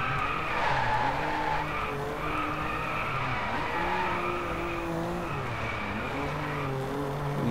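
A BMW skids through a corner in a racing video game, with tires squealing in long wavering tones over a steady engine drone, loud and continuous without a break.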